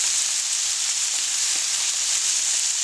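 Chicken livers browning in a hot pan, seasoned with a chipotle garlic mix, give off a steady, loud, close sizzle that hisses on without a break.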